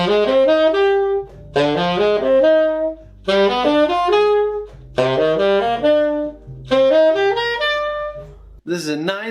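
A tune is played with added melodic arpeggio structures over each chord, heard as a clear, loud instrumental line of quick ascending and descending arpeggiated notes in repeated phrases, with brief pauses between them.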